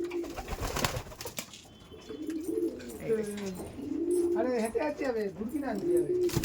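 Old Bengal Giribaj pigeons coo in a steady run of soft, rolling calls close by, with a few faint jangles and voices in the background.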